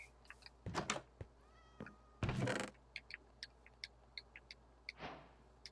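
Cat meowing in Minecraft on PlayStation, several short quiet mews spread across a sparse game soundscape, with scattered soft clicks and a couple of brief thuds between them.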